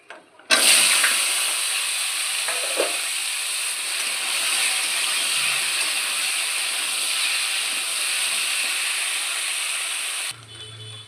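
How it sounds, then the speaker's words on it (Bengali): Mixed vegetables for navratan sizzle in hot oil with bay leaf, dried chilli and panch phoron, a loud steady broadband hiss that starts abruptly and runs evenly for about ten seconds before cutting off. "সবজি ভাজা ভাজা হয়ে গেছে"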